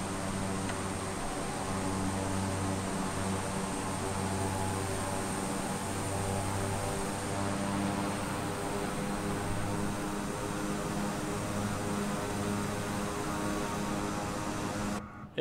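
Steady drone of a North American Rockwell OV-10 Bronco twin-turboprop cruising in Microsoft Flight Simulator, an even propeller hum with a faint rhythmic throb, constant and unbroken until it cuts off at the end.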